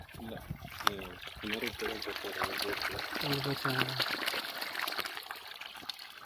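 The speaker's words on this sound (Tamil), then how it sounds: "தண்ணி அங்கே போகுது பாதி இதில் கொஞ்சம் பாதி போகுது" Water from a 3 hp solar-powered pump running on six 590 W panels flows and splashes steadily, split between two channels. It sounds continuous at moderate level, with someone talking over it throughout.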